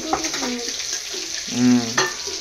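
Fish frying in a pan gives a steady hiss through the whole moment, with a few brief tonal sounds rising over it near the start and the middle.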